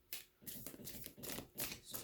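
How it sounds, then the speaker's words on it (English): Quiet riffling and slapping of tarot cards being shuffled close by, in several soft bursts with brief gaps between them. "It's just me shuffling."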